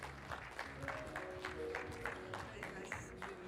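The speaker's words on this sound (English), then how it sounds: "Please give a big hand of applause." Applause from a conference audience at a digital summit in Bengaluru, with rapid, fairly faint clapping that continues steadily and evenly for a few seconds.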